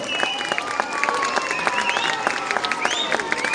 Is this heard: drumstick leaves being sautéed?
no